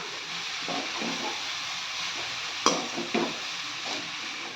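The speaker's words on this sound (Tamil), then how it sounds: "கிளறி கொடுத்துக்கலாம்" Continuous frying sizzle of cabbage with grated coconut in a pan, with a few scraping stirs and a couple of louder clanks against the pan.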